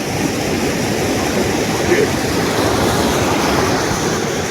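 Tarabu waterfall gives a dense, constant roar of falling water heard close up, with no break or change across the whole stretch.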